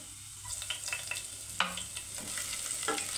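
Green chilli pieces fry with onion in a pan, a soft steady sizzle with occasional scraping stirs and clinks of a spatula, close up and without any talk.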